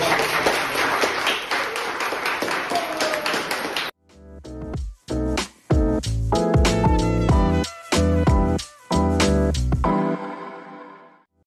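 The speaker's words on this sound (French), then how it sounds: "On peut l'applaudir, là, comme ça." An audience at a school awards gala applauds loudly with dense, continuous clapping for about four seconds. The applause then cuts off abruptly and gives way to sharp, rhythmic tapping sounds.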